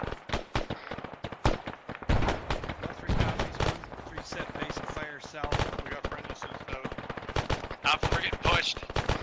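Dense, loud gunfire from the military shooter ARMA 3 rattles in rapid bursts throughout, overlapping with radio-style voices talking among the players.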